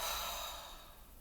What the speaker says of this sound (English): Just let it go out through the mouth and relax your jaw